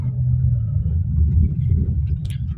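A Kia Carnival Limousine Plus minivan's engine rumbling under throttle from inside the cabin, a loud, steady low drone that holds level for a few seconds with a faint high whine near the end.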